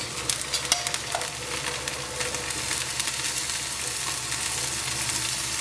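Rava dosa sizzles steadily in ghee on a hot pan, a dense crackling hiss running throughout with a few sharper pops near the start, close and alone with no talking.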